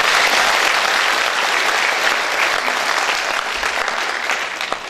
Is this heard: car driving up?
no